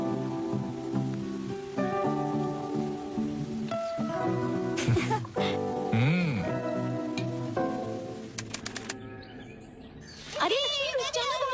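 Steady rain pours through a scene in a Hindi-dubbed action thriller film, a constant hiss running beneath voices and music for the whole stretch.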